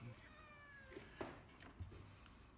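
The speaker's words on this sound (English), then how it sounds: "And of course the cat's gonna jump up here for good measure." A house cat meows in a drawn-out, harmonic cry near the start, close and fairly quiet, followed by a couple of brief thumps and rustles as it moves around a painting table.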